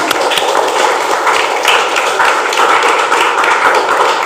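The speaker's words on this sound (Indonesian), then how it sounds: "Oke, clap please," Classroom students clap together in a continuous, fairly loud and close wash of overlapping hand claps that lasts about four seconds, with no talking.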